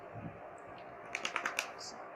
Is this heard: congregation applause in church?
no